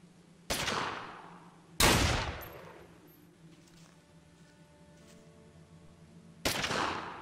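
A battle rifle firing in the post-apocalyptic online game Fallen Earth: three loud, sharp single shots spaced seconds apart, each with a ringing decay, over a low ambient hum.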